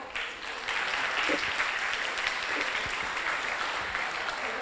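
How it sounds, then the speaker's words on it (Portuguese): An audience at a Brazilian bar association constitutional-law event applauds a speaker, with steady, fairly soft clapping that continues evenly, and a faint voice or two underneath. "Um aplauso, por favor"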